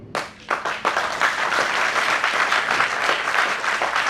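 A seminar audience in Delhi breaks into applause: a few sharp opening claps quickly build into a steady, dense wash of clapping from a large crowd that holds without a break.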